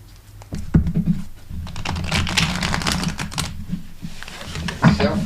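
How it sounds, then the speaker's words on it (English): A deck of cards being shuffled nearby, a dense fluttering riffle of quick papery clicks lasting several seconds. "I'm gonna shuffle one more time"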